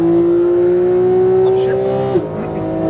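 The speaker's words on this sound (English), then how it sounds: "Accelerate out to the left, full power" A Porsche GT3 race car engine screams at high revs at full power, holding a steady pitch as it accelerates hard, then a brief shift-like dip near the end.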